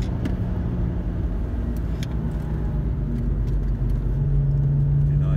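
A car lapping the Nürburgring Nordschleife, its engine a steady loud rumble throughout that climbs into a sustained tone near the end as the throttle opens again.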